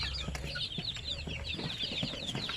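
Chickens on a farm raising basilan and zampen chicks cluck and chirp constantly, a busy, close chatter of many birds with short peeps and clucks overlapping.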